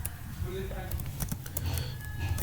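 Keys clatter on a computer keyboard as a MySQL select query is typed, a steady run of light clicks under a low background hum.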